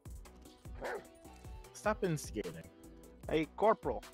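A dog in the game GTA 5 barks and yips several times in short bursts, mixed in with people talking close by.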